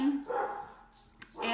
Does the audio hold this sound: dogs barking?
yes